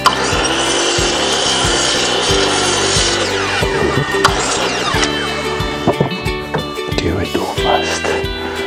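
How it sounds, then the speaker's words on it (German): Rhythmic wood sawing through an old patinated wooden board being cut to make a shabby-chic tray bottom, steady repeated strokes close by with some rubbing and scraping, and a voice faintly present. "Den schneiden wir dann da aus und dann bauen wir ihn da rein."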